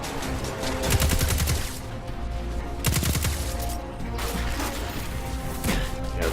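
Auto rifle fire in Destiny 2, rapid bursts of loud crackling shots, each a sustained rattling stream, separated by short pauses, with impact crashes mixed in and no talk.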